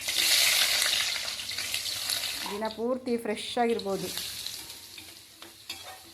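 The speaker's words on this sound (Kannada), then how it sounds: "ಈಗ ಒಗ್ಗರಣೆ ಮಾಡ್ಕೋತಾ ಇದ್ದೇನೆ" Spices for oggarane tempering in hot oil while breakfast is cooked, a loud bright sizzle at first that gradually settles, with a person talking briefly in the middle.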